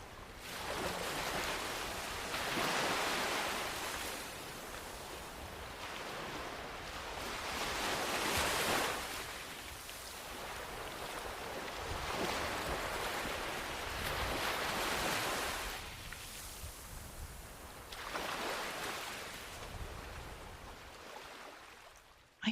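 Ocean waves washing onto a beach near St. Pete Beach, several slow swelling surges rising and falling over steady wind noise, with no voices.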